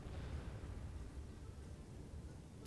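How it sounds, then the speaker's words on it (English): A rumbling, low boom from an explosion in the Call of Warhammer battle game, a dense sustained roar that stays loud across the whole stretch without any voices. "Let's see the explosion."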